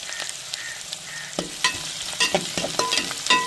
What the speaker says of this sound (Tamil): வெங்காயம் நல்லா வதங்கி வரட்டுங்க